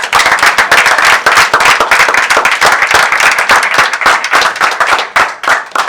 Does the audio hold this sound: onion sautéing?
no